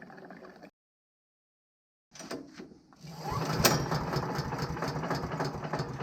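A Tazz K33 chipper shredder's 301cc Viper engine is pulled and catches on its first start, then settles into a steady, loud running drone after a short silence and a few sputters.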